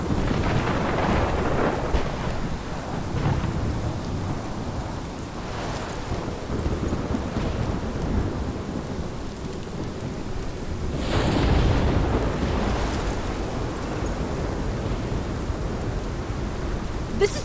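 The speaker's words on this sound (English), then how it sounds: "This is my storm." A heavy thunderstorm in the video game Life Is Strange, Episode 5: constant loud downpour with low rumbling thunder underneath and a swelling roll partway through.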